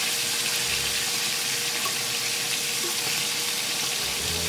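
Fish deep-frying in hot oil gives a loud, steady sizzle as it is stirred. A continuous dense crackle fills the whole moment, with no voices.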